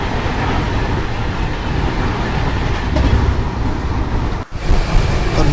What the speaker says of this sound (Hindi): WD7 के साथ जा रही है भोपाल शताब्दी।